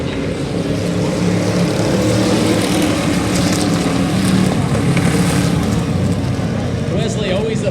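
Flathead race cars roaring around Wake County Speedway, a loud sustained engine drone blended with wind buffeting, under a commentator's voice.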